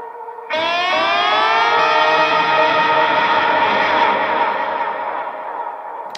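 Slide electric guitar moved around the neck through echo, distortion and reverb, starting with a quiet note, then swelling into a loud sustained wash with gliding, siren-like pitch bends that slowly fades, no voices.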